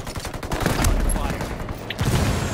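Gunfire in Ghost Recon Wildlands, a loud close burst of rapid shots followed by scattered single reports, with game sounds and voices underneath.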